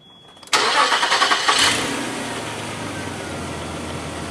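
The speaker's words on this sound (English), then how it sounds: "Start the engine." A 2000 Nissan Xterra engine cranks in a quick burst of pulses, catches, then settles into a steady idle, close and fairly loud.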